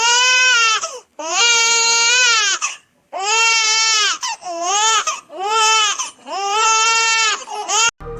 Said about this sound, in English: Here's a video of a baby crying.